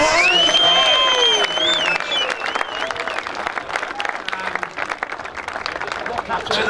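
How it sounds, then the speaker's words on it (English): A crowd applauds and cheers at a senior grand final presentation for Pines and Sorrento, loud and continuous, with whistles and shouts over the clapping. "big round of applause for them."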